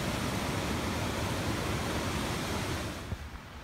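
A canyon stream flows with a steady, loud rushing wash of water close by that dips slightly near the end.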